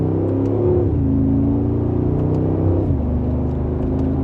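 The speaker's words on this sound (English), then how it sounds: "And just a mild acceleration. Sounds very good for that V8." A 2024 Mercedes-Benz G63 AMG V8 in Sport Plus accelerating gently from second gear on the road, heard from inside as a loud, steady deep engine drone that climbs in pitch and then drops with a gear shift.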